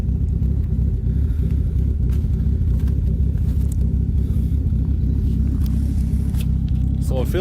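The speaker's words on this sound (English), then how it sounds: "Still a cold start. That's why it's a little smoky." A Nissan 240SX with a swapped 1JZ engine idles on a cold start in a snowy setting, giving a loud, steady low rumble throughout with no clear revs.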